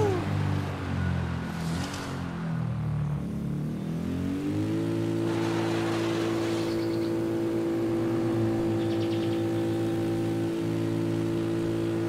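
In a video game, a motorbike engine revs and climbs in pitch during a wheelie, then holds a steady, buzzing drone that runs loud and continuous.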